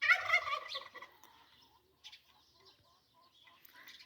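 Backyard chickens clucking and fowl calling, loudest in the first second with a burst of close vocalizations, then scattered softer clucks and calls trailing off over a quiet morning yard.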